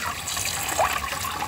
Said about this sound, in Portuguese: Eu tô molhando bem